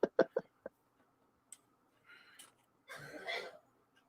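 Sharp coughing bursts at the start, then some throat noises, followed by a longer rasping bout, all heard in the background of a quiet room.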